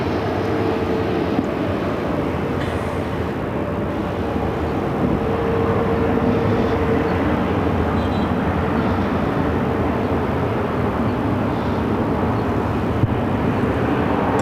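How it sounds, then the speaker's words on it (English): An Airbus A350-1000 airliner arriving from London Heathrow on approach to Phoenix, a steady broad jet roar with a faint whine that holds fairly loud and constant throughout, with no voices. "Airways Flight 289 coming in from London Heathrow, the A350 1000"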